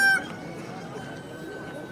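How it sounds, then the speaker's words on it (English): Chickens and a rooster at a crowded funeral gathering in Toraja, Sulawesi, Indonesia, a short crow-like call opening over a dense, steady crowd murmur with voices throughout. "And chickens."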